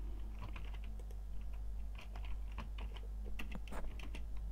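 Quiet clicking of keys on a computer keyboard as a formula is typed into a LibreOffice Calc spreadsheet, irregular bursts of taps spread across the clip with no talk.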